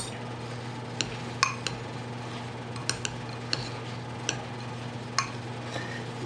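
A utensil stirs butter into crushed Walker's shortbread in a bowl, giving faint, scattered clinks and scrapes against a quiet room hum.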